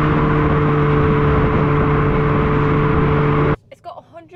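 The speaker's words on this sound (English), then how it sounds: "the fake exhaust sound is actually quite consistent" Synthetic exhaust note from an Abarth 500e electric hot hatch under acceleration, a loud steady droning hum held at one level for over three seconds, then cutting off into quieter noise with a brief voice.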